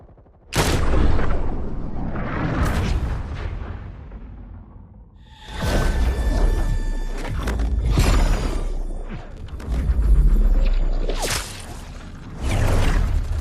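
Heavy gunfire from an army in FF7 Saga Abridged, loud bursts and whooshing blasts that come in waves with brief lulls between them.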